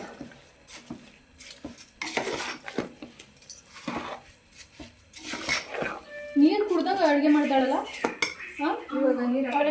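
Rice and chicken for a white chicken dish are stirred together in a cooking pot, with metal spoon scrapes and clinks against the pot coming in irregular bursts while people talk over them.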